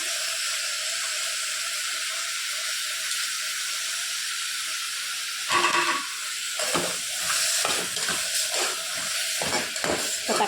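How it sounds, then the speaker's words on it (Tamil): Three cut tomatoes sautéing in a pan for tomato rice, a steady close sizzle and hiss that jumps up after the tomatoes go in, with stirring scrapes and crackling bursts through the second half. "தக்காளி நல்லா வதங்கட்டும்"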